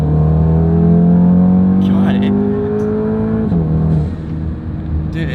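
A 900 hp BMW M550 with a bigger turbo and E50 meth fuel accelerates hard, its engine note climbing steadily before a shift and then easing off, loud and close with a voice speaking briefly over it.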